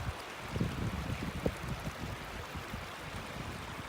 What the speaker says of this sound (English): not just one little waterfall, it's a cascade that goes for a while.